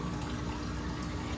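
Water runs steadily during an aquarium water change in a fish room, a dense, even rushing and splashing that stays at a constant level, close by with no talk.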